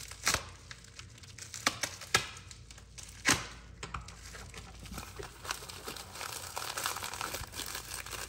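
A mailed package of trading cards is torn open, giving sharp crinkling and crackling bursts of plastic and paper with irregular loud snaps, then a denser, continuous rustle as the wrapping is pulled apart up close.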